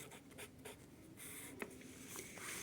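Quick scratchy writing strokes on a board during a Hindi grammar lesson, faint and intermittent, in short bursts with a few sharper taps and no talk over them.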